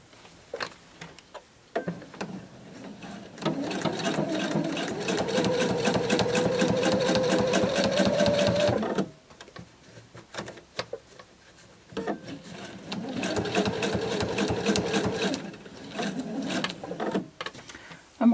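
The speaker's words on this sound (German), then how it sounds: "Ja, und jetzt nähe ich das ab." A sewing machine stitches a zipper strip onto a Cityhopper bag in two long, steady runs of rapid mechanical chatter, separated by a pause filled with small handling clicks.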